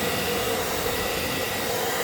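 Continuous loud whooshing of a blow dryer running close by while heat-shrinking plastic window insulation film, steady and unbroken, with no talking.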